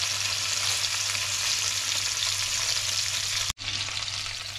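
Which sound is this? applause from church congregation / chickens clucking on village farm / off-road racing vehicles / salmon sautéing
salmon sautéing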